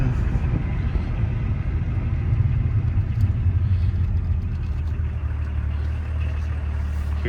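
A 1985 BMW 524td diesel car engine rumbles steadily while driving, a continuous low drone heard from inside the cabin with road noise and no talk.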